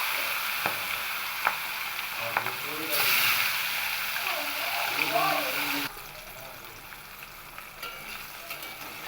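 Hilsa fish pieces fry in hot mustard oil in a kadai with a steady, close sizzle and crackle, while someone talks over it.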